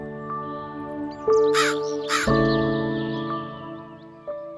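A crow gives two harsh, rasping caws in quick succession over soft, sustained musical tones.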